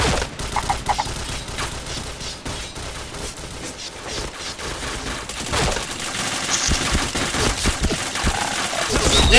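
Rapid gunfire from the mobile battle game Free Fire, dense bursts of automatic shots rattling almost continuously and growing louder toward the end, with no clear talk over it.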